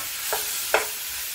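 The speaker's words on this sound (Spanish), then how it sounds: "Ponemos el sofrito ahí. Entonces le vamos revolviendo" Sofrito being stirred into a pot of beef sancocho, two brief scraping strokes of a spoon against the pot over a soft background hiss, close and fairly quiet.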